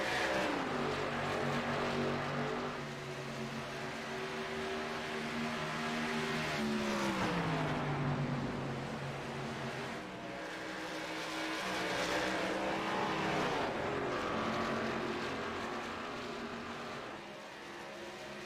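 Stock race cars compete in the K&N series at Kentucky, with engines droning and pitching down as cars pass, and several overlapping passes rising and falling over eighteen seconds at moderate distance.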